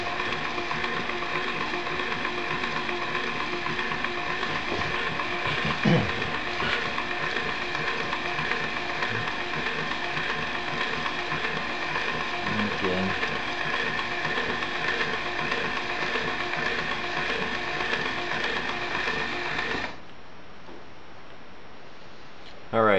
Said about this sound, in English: So now that's going to reset the actuator.